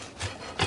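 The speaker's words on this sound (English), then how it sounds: "now I'm going to go ahead and give this a slice" A knife cuts diagonally through a bison burger patty cooked from frozen in a Chefman air fryer oven, giving two short, close scraping strokes with a quiet pause between them.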